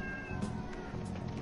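A cat meows outside a door, a few soft, muffled cries rising above steady background hum, fairly faint and alone without talk.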